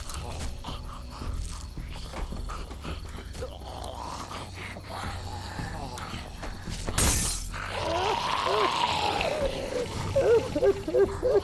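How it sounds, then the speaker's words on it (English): A car window shattered with spark plug porcelain in The Walking Dead game: one sudden, loud crash of breaking glass midway, followed by tinkling debris and rustling, with voices talking around it. "Porcelain inside these things turns car windows to tissue paper"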